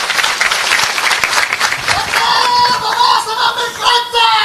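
A rally crowd at a tricolour procession in Rajur applauds for Babasaheb: steady, loud, sustained clapping from many hands, with a voice briefly rising over the applause near the end.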